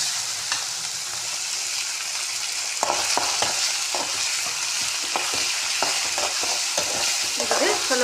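Onion and tomato mixture with coriander frying for kanda poha, a steady close sizzle with repeated scraping strokes of a spatula stirring the pan in the second half.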